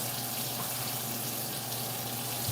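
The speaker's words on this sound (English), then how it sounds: "I got to wash my spatula" A spatula is rinsed under a running kitchen tap, a steady hiss of water flowing into the sink that continues without a break throughout.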